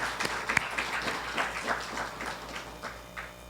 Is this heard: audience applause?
yes